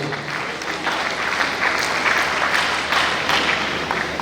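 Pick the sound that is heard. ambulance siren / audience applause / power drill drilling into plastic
audience applause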